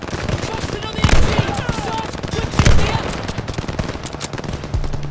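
Machine gun fire in the Call of Duty Vanguard video game: loud, rapid automatic bursts rattle continuously up close, with heavier shots punching through at intervals over dense battlefield noise.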